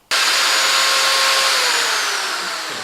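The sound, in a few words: power drills running, blue drill with torque control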